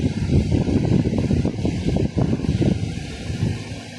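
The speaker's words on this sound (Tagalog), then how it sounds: "Hangin." Gusty wind buffets the microphone with a low, rumbling roar that rises and falls unevenly throughout, loud and close.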